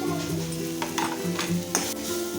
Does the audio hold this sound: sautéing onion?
yes